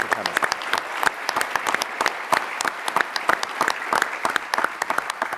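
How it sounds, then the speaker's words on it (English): A roomful of volunteers and staff at a tennis event applauds, with dense, sustained clapping and sharp individual claps standing out throughout, and a voice faintly present at the start. "give yourselves a round of applause for your contribution"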